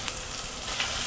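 Three large onions with salt sauté in a hot pan for coconut milk brinji, a brief, steady close sizzle with a faint stir, no speech.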